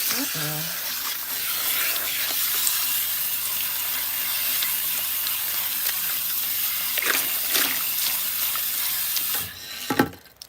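Running water at a salon sink rinses hair, a steady close hiss and splash that fills the whole stretch before cutting off near the end, with talk faintly underneath.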